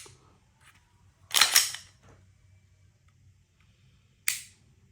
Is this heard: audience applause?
no